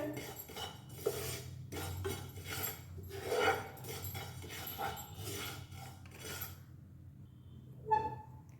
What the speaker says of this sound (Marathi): त्याच्यातच हा हिंग पण आपण परतून घेतोय